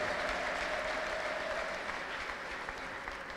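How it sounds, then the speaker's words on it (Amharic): Congregation at a church service applauding after a prayer, a dense steady wash of many hands clapping that holds loud throughout and eases slightly toward the end. "እስቲ አጨብጭቡ ይሄን ጸሎት የጸለያችሁ ሰዎች"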